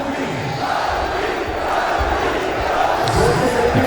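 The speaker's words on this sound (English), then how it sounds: "you can hear the chants now from the crowd here on the brink of celebrating a famous Afghanistan victory" A cricket crowd at the Champions Trophy match between England and Afghanistan chants on the brink of an Afghanistan victory, a dense, steady roar of many voices with rhythmic swells, loud and continuous throughout.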